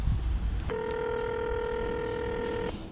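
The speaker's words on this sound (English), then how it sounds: "I wonder what happens if you call that number." A cell phone calling the Walt Disney World resort number gives a single steady electronic tone lasting about two seconds, clear and close over faint background noise.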